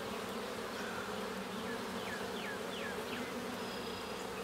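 Honey bees swarm around open hives in June, a dense continuous buzzing drone with individual bees whining past nearby, steady and unbroken throughout.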